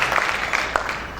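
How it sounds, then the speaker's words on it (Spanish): At a fasting church service, the congregation keeps up a moderate, continuous clapping, with a few sharper individual claps standing out of the steady patter. "Aplaudan fuerte al Señor"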